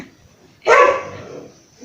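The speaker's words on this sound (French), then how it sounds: "mon chien est en train d'aboyer" A pet dog at home gives one loud, close bark that trails off into a quieter rough tail, with no other sounds around it.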